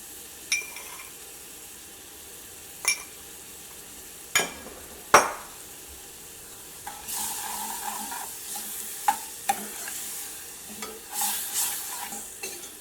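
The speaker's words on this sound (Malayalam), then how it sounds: "ഞാനിതിലേക്ക് ശർക്കര നീരാണ് ചേർക്കാൻ വേണ്ടിയിട്ട് പോകുന്നത്" Jaggery syrup poured and stirred into a ginger pickle (puli inji) in a pan, with scattered spoon scrapes and clinks, a few sharp knocks, then a soft sizzling bubbling stretch; no speech.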